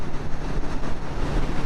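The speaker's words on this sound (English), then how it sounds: "It's a really windy day." Heavy, continuous wind buffeting rumbles low and steady across the microphone while riding a motorcycle on an interstate on a windy day, with no voices.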